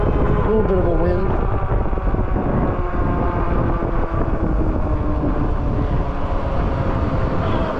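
Steady roar of wind buffeting the microphone while riding an Ariel Rider Grizzly e-bike uphill into a headwind, loud and continuous for the whole stretch with no pauses.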